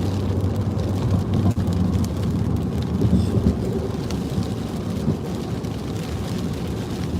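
Heavy rain pours steadily, a dense, loud hiss and roar with a low rumble beneath, continuous and unbroken, as if heard from inside a vehicle.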